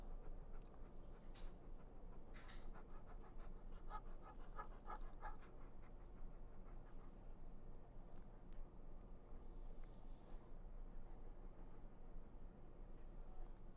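A large dog pants steadily during anesthetic induction for a dental procedure at a veterinary clinic, a soft rapid breathing rhythm that continues under a constant background hiss, faint and close, no talking.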